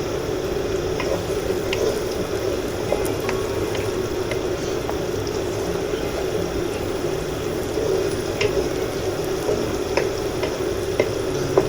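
Vegetables fry in hot oil for semiya biryani, a steady close sizzle with scattered small pops and crackles throughout, no voices.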